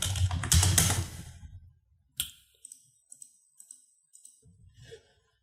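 Typing on a computer keyboard while entering a brick-wall item in SketchUp. After a short burst of broadband noise, a handful of separate, close key clicks sound at irregular intervals.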